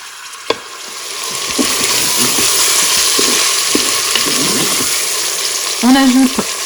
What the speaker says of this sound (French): On va ajouter la viande. Et on va la faire revenir jusqu'à ce qu'elle soit colorée.